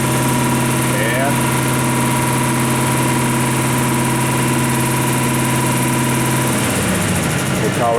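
The spindle of a Bridgeport Harig 618 EZ-SURF CNC surface grinder runs with a loud, steady hum and whine throughout, and its pitch shifts slightly near the end.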